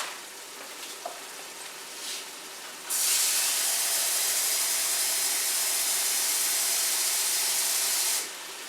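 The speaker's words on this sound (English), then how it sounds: "I'm going to throw in just a little over 2 cups of water." Water, a little over two cups, poured into a hot pot of Louisiana gumbo, giving a loud steady hissing sizzle of steam that starts abruptly and holds for several seconds before cutting off, with no talk.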